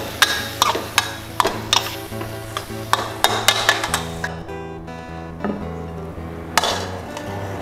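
Spring onion stir-fried into cashew chicken in a wok after the gas is turned off, with a quick run of close metallic clanks and scrapes from the spatula over a faint, fading sizzle.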